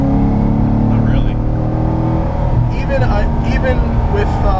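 A 580 whp C6 Corvette Z06 accelerating hard at altitude, its loud engine drone climbing steadily from inside the cabin, with someone talking over the noise.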